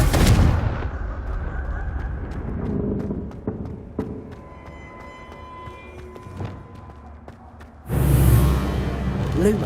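Fiery spell blasts from the Hogwarts Legacy video game: a loud opening burst, then scattered sharp cracks and impacts over a lingering rumble, ending with another heavy explosive whoosh.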